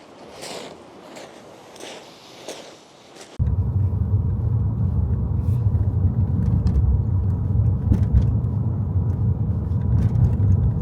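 A car drives on a road between seaside photography spots, a steady loud engine and road rumble filling the cabin after a few seconds of quieter outdoor sound with light footsteps.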